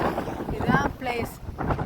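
A boat moving out on the sea, heard as a rushing churn of water and engine buffeted by heavy wind noise on the microphone, with faint voices mixed in.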